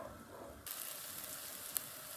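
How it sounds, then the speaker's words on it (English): Onion sizzles gently in a pan while being cooked down for beef stroganoff, a faint steady hiss with one small sharp tick near the end and no voices. "now we're going to give the onion a little time to become transparent."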